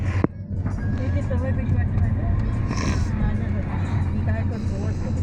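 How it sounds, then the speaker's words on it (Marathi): Road traffic moves slowly at a village fair in Maharashtra, a continuous low engine rumble with passing vehicles under a background babble of crowd voices. "तर मित्रांनो ट्रॅफिक सुटलेला असं आता."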